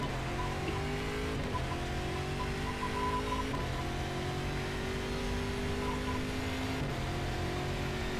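A stock car in the Game Stock Car 2012 racing sim howls along alone, its engine climbing steadily in pitch and dropping sharply at gear changes about every two to three seconds, loud and constant with no talk.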